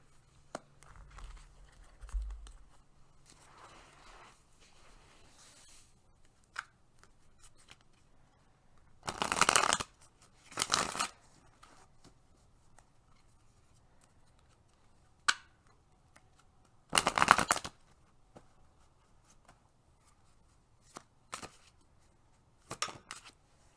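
Tarot and oracle cards shuffled by hand at a reading, giving faint papery riffles and several short, louder flurries of card sounds over a quiet room with no talk.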